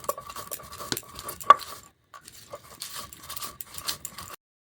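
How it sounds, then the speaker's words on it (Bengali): Spices being crushed on a Bengali stone slab with a grinding stone (shil-nora), coarsely ground for a coconut-shell pickle: repeated scraping, knocking strokes close by, with a brief pause midway. "দেখুন শিলনোড়ার মধ্যে আমি গুঁড়িয়ে নিচ্ছি"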